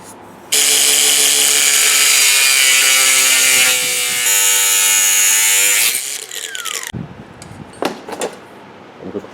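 A power tool cuts through material while electric cooling fans are being installed, a loud steady whining grind of about five seconds that stops abruptly, followed by scattered clatter and handling knocks.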